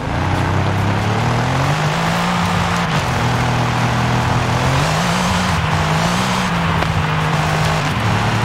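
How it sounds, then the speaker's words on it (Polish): A Brabus 800 engine in Forza Horizon 5, heard as a steady loud drone whose pitch climbs and falls through gear changes, a continuous close engine roar with faint tire noise and no talking. "No i posłuchajmy Brabusa."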